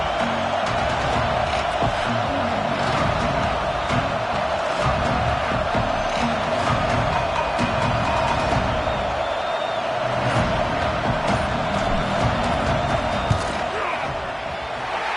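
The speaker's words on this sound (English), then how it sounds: "This crowd trying to do its part to get inside the kicker's head." A football stadium crowd roars steadily through a field goal attempt, a dense, loud wall of cheering and yelling that stays constant throughout.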